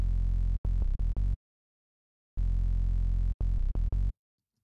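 A synthesized sub bass for a drum and bass track, with pitch bend, plays in two choppy bursts of loud, deep, stuttering notes separated by a stretch of silence, with no voice.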